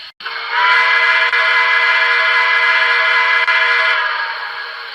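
The second horn of a BLI T1 Duplex steam locomotive model train sounds as one loud, sustained, steady chord-like blast lasting about four seconds, then tapers off, with nothing else audible.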